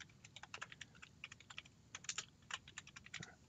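Rapid, uneven keystrokes on a computer keyboard, typed by hand. The clicks are crisp and close, with short pauses between bursts and no voices.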